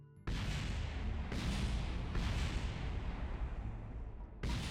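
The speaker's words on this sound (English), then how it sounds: "the beautiful sound of debris exploding into the planet, well, planetoid" Debris slams into a planetoid in Kerbal Space Program, setting off a run of heavy, booming explosions in close succession, each a sudden loud burst that rumbles on before the next hits.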